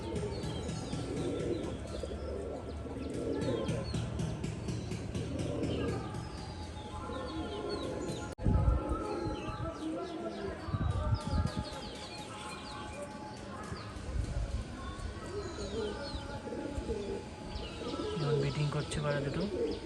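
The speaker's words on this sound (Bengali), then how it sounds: "মিটিং করছে পায়রা দুটো।" A mated pair of black Jak Rajshahi pigeons coo repeatedly while mating, with deep rolling phrases rising and falling near the listener, chirps from other birds in the loft and intermittent voices talking.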